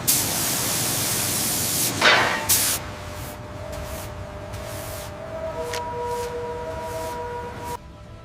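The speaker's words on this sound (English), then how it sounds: "The thermal sprayer is prepped and ready to go." A thermal sprayer applying coating during a ship restoration gives off a loud, steady broadband hiss, then shorter pulsing spray bursts over a faint tonal hum.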